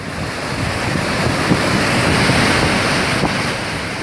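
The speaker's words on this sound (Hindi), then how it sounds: "ज्वार भाटा जैसी दिखने वाली तेनू घाट डैम से पानी की ये उफनती धारा बता रही है कि हालात कितने भयावह हैं।" Floodwater surges out of the Tenughat dam, a loud, continuous roar of churning water with windy buffeting on the microphone, building slightly through the middle and never letting up.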